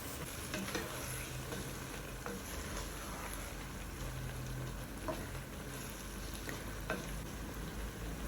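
Chicken rice cooks in a single pot while a spoon stirs it now and then. The sizzle is soft and continuous, broken by a few faint scrapes and knocks against the pot.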